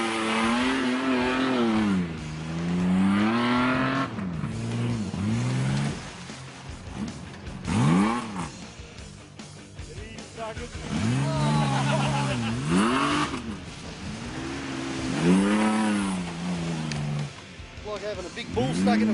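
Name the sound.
off-road vehicle engine revving in mud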